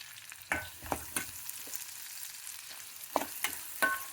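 Onions and green chillies fry in a pan with a soft, steady sizzle, broken by several sharp spatula scrapes and taps against the metal as they are stirred, close and moderately loud.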